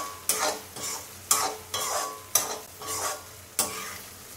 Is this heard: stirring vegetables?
yes